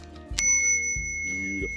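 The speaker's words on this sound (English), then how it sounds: "the other thing that I love about it is this little bell" Small bell on an electric bike: a single bright ring and then a second ring, with a sustained metallic shimmer and a low hum underneath.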